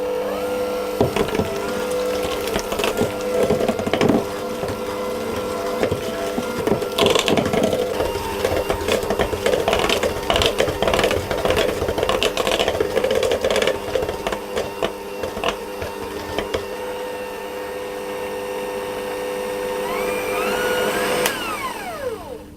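An electric hand mixer with beaters churning Viennese cookie dough on a slow setting, a steady buzzing whir with rattling, scraping bursts as the beaters work the thick dough throughout, no talking.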